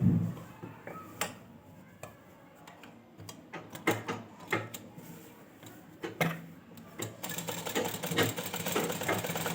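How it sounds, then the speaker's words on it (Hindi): A sewing machine stitching a double seam on a pajama runs in short bursts between pauses, a close, quiet mechanical ticking that speeds into a rattling buzz toward the end. "तो यहाँ पे मैं डब सिलाई इस तरह से लगा देती हूँ।"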